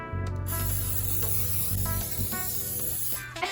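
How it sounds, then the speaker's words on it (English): Cooking spray hisses steadily onto loaf pans while making banana bread, a continuous close spray lasting about three seconds over soft background music. "Next, we spray the loaf pans so the mixture doesn't stick."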